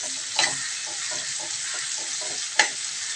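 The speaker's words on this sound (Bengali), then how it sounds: "ফ্রাই করে নেব" Chowmein with plenty of vegetables frying in a hot wok, a steady close sizzle broken by several soft scraping stirs and two sharper clinks of the utensil against the metal.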